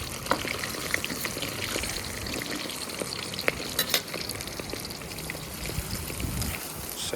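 Shrimp frying in a hot wok, a sustained crackling sizzle with scattered sharp pops and scraping as the pieces are moved around, close and continuous throughout.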